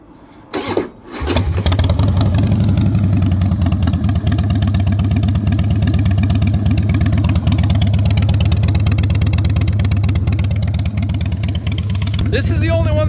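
A 2003 Harley-Davidson Softail 100th anniversary motorcycle with aftermarket pipes starts up after a brief crank, then idles loud and close with a steady, lumpy potato-potato rhythm and a small blip near the end.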